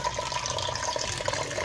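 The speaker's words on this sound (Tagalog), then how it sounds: "Ilubog natin siya sa tubig na malamig." Peeled tomatoes being dipped into a bowl of cold water give a steady close splashing and trickling, with faint tap-like running water throughout and no talk.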